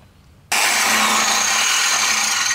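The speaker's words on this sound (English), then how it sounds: "we're starting to drill the hole" A power drill suddenly starts boring into a stainless steel exhaust, a loud, harsh, high grinding whine that begins abruptly after a brief quiet moment and holds steady and close, with no talking.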